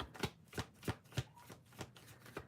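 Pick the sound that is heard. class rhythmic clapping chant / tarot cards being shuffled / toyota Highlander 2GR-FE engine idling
tarot cards being shuffled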